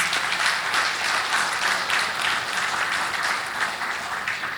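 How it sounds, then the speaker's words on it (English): Steady, dense audience applause fills a panel-session hall, a continuous wash of many hands clapping at an even, fairly loud level with no voices over it. "I think we should give him a round of applause for that."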